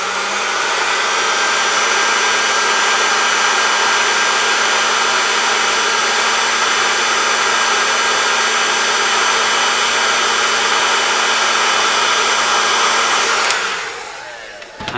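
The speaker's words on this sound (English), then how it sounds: "Another little trick I've got up my sleeve is to take a heat gun and just warm up" A heat gun blows steadily and loudly, warming the solder pads on the circuit board of a Blackstar HT5 amplifier; the constant airy roar with a fixed hum runs unbroken for about thirteen seconds, then cuts off abruptly.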